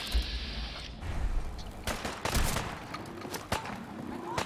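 Gunfire in the video game Fallout 4: Far Harbor, a scattered volley of sharp shots and thumps at moderate distance, with a brief tonal sound at the start.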